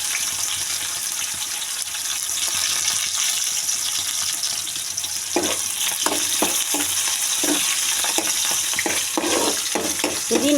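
Green chillies, onion and mint hitting hot oil in a pan for a Telangana jackfruit curry make a steady, close sizzle. Rhythmic stirring and scraping sounds join in partway through.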